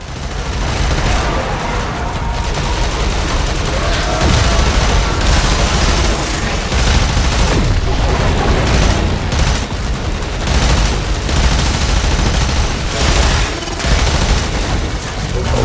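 Grenade launcher fire in the game Warframe: a dense, loud, continuous barrage of blasts and gunfire that runs without a break.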